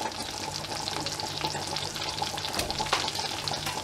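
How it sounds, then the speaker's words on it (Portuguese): Steady sizzling of red potatoes frying in butter in a hot pan, a dense crackling hiss with occasional sharper pops, continuous and fairly close. "E a gente vai-las fritando."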